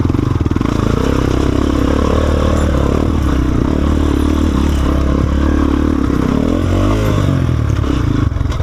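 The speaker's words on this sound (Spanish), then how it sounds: "los voy a dejar con algunas tomas del enduro que hice ayer para que vean un poco el sonido, cómo se siente y cómo responde la moto" Guerrero GXR250 motorcycle fitted with a new exhaust, ridden on an enduro trail, its engine running loud and close throughout with continuous revving, rising and falling pitch and rattling clatter as it accelerates.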